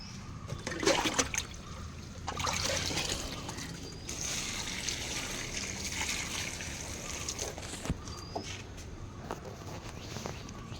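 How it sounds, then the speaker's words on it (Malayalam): Water trickles and splashes in short pours onto soil and leaves of terrace potted plants, quiet and close, with pauses between pours and faint outdoor background. "ഇനി എല്ലാത്തിനും വെള്ളം ഒഴിക്കട്ടെ"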